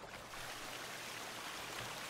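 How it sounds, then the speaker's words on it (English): Steady, even rush of a flowing stream in The Forest survival game's outdoor woodland, continuous and moderately near with no talk over it. "here we have water"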